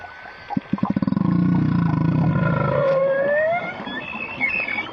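Loud whistling and rising squeals echo underwater, layered with low pulsing clicks and a droning rumble, several animals calling at once.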